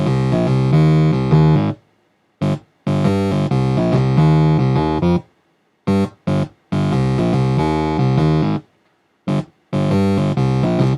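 Thor software synthesizer patch using two oscillators, playing short rhythmic phrases of bright, harmonically rich notes separated by clean gaps of silence.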